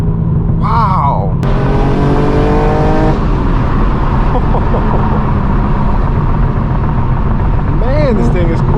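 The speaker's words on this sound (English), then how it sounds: "Just listen to the S58. It sounds so good with this exhaust system." A straight-piped BMW M4 G82 with its S58 engine and a manual gearbox revs hard, its exhaust note climbing in a rising sweep before settling into a steady drone, with brief talking near the start and end.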